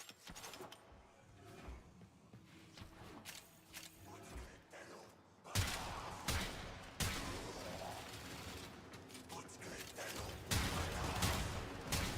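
Sniper rifle fire in the video game Warframe, played as Harrow: sharp bursts of gunfire over game effects and mechanical clatter, with louder shots in the second half.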